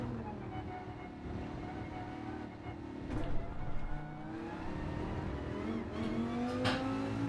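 Race car engine in Gran Turismo 7 at Monza, droning steadily with rising revs and a gear change, loud and continuous with faint talk underneath.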